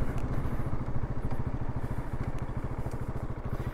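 KTM 690 Enduro R single-cylinder motorcycle engine running on gravel, a close, loud, rapidly pulsing thump with a steady rough rhythm throughout, without talk.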